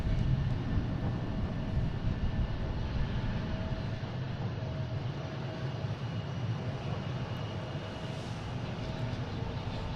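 A JetBlue Airbus A220 jet taking off from Boston Logan for Salt Lake City gives a moderate, sustained engine roar with a steady tonal whine, a little stronger at the start.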